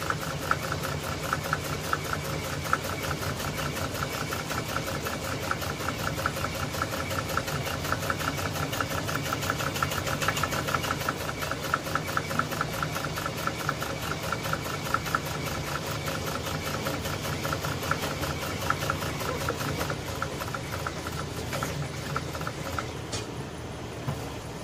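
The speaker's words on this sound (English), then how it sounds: "Wants to rev to the moon, so I mean it's just capable of sewing extremely fast." An upholstery sewing machine, clutch-driven, runs fast and steadily for the whole stretch, with a dense, rapid mechanical whir and clatter that stays loud and close throughout, no voices over it.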